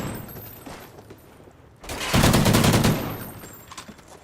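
A burst of rapid automatic gunfire from a Remington R5 rifle in a multiplayer shooter game, loud and dense for about a second, with quieter ambient game sound before and after.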